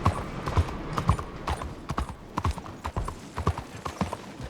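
Steady horse hooves clip-clop at a walking pace in Red Dead Redemption 2, close and fairly quiet, with faint ambient background and no talking.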